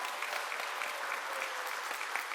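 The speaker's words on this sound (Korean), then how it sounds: "큰 박수 부탁드립니다." Steady applause from a church congregation during a Sunday service, dense and even throughout, a room full of hands clapping without pause.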